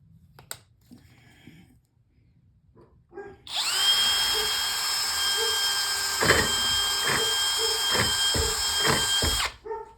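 A power drill bores holes through a four-wheel moving dolly under repair, its high motor whine starting abruptly after a few quiet clicks and holding loud for about six seconds, with rhythmic knocks as the bit bites, then cutting off.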